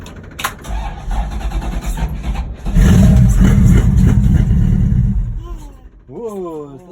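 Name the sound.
1971 Chevrolet C10 truck with LS engine starting and running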